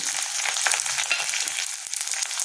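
Sliced onions and green chillies fry in hot oil for blue pulao, giving a continuous, close crackling sizzle with small, uneven spits and pops throughout.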